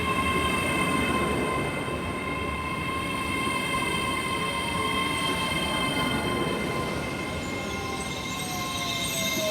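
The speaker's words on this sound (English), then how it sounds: "Right, departing out is the 1117 to London King's Cross" A southbound service to London King's Cross, originating from Inverness, pulls out of Haymarket station with a steady, moderately distant rail rumble and faint wheel squeals and whining tones throughout, no voices.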